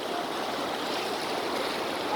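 Floodwater in the swollen Rail river rushes past in a steady, even wash of noise, moderately loud and unbroken.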